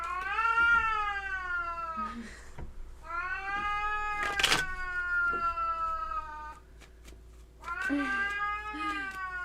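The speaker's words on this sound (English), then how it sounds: "Oh my god, the cat." A cat meows loudly and insistently near the microphone, giving several long drawn-out yowls with short pauses between them over a low background hum.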